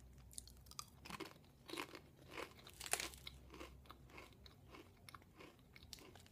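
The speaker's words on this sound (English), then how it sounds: "They're very, very crunchy." Sea salt and olive oil veggie chips crunched and chewed close up, a steady run of crisp bites and crackly chews in a quiet room with no talking.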